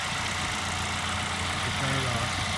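A car engine idles with a steady low rumble, heard close and continuous, with a slight rise in level near the end just before it is switched off.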